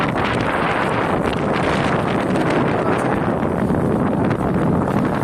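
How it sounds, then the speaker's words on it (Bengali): Strong wind over the rough Meghna river, with boats out on the water, buffets the microphone in a loud, continuous roar with no pauses. "পুরো নদীতে ভরপুর বাতাস"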